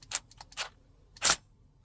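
Several quick clicks sound from a torque wrench tightening a nut on a 2000 third-generation Toyota 4Runner: two or three close, crisp snaps and then one louder click, near and alone.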